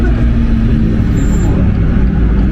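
A Porsche 991 GT3 drives on the Nürburgring, its engine a loud, constant, low roar heard from inside the car without a break.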